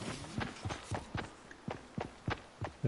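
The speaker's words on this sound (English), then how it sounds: "I can hear his footsteps." Rhythmic in-game footsteps in the video game Fortnite, about a dozen thudding steps at a quick steady pace, fairly close and prominent, with no voices over them.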